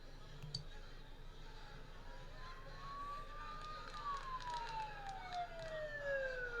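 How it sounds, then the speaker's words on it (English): Video game sirens wail steadily in the background, a rising and falling tone over a low ambient rumble with faint clicks, sounding somewhat distant. "Don't those sirens sound really close?"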